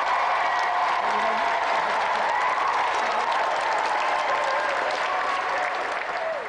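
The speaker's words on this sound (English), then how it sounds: "let's have another round of applause for Emily and Michael Glebe." Studio audience at a television games show applauding steadily, a dense, even wash of clapping and some crowd noise that holds throughout and fades slightly at the end.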